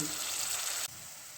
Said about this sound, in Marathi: यामध्ये आपल्याला लगेच टाकायचं आहे अर्धी वाटी दही, आंबट दही, अर्धी वाटी दही आणि अर्धी वाटी पाणी।